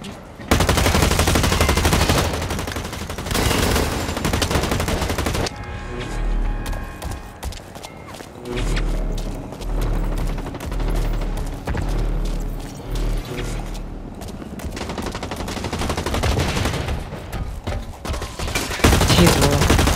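Loud bursts of automatic and pistol gunfire ring out in the shooter game Blacklight Retribution, in rapid volleys separated by quieter stretches, while players talk over the action.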